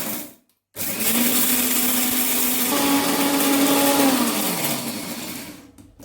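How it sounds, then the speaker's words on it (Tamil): An electric mixer grinder whirs steadily as it blends guava chutney, a loud even motor roar that starts abruptly after a short pause, holds for several seconds, then winds down as the motor slows. "இப்போ அதை அரைச்சிடுவோம் லைட்டாக"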